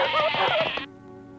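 A sheep's bleat in a 1983 British television advert, a single wavering, nasal cry lasting under a second, close and clear, then cut off abruptly.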